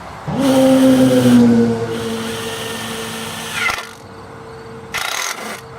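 A power drill drives structural screws into 2x4s while building a wood stove rack: a loud whirring motor burst winding down, a second quieter run, then a short final spin.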